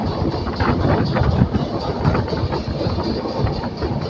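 A Shatabdi Express passenger train runs on rails with a steady, loud rumble and rhythmic clickety-clack of wheels over joints. The whooshing wind noise is continuous and heard from inside or close by.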